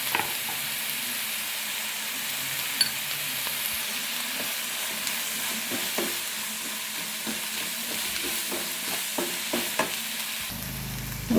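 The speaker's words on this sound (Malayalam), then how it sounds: "എന്നിട്ട് നന്നായിട്ട് എല്ലാം കൂടി നമുക്ക് നന്നായിട്ട് വഴറ്റിയെടുക്കണം" Crushed shallots and onions sizzle steadily in a pan for chicken curry, a dense, constant hiss punctuated by frequent light clicks and scrapes of stirring.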